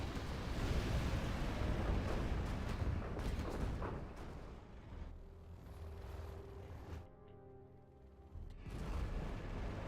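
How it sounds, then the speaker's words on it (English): Nuke cannon firing in the video game Command & Conquer: Zero Hour, a heavy, sustained booming roar of explosive blasts that rumbles loudly and then fades into a lower drone, with no talk. "That's going to be a nice hit with the nuke cannon"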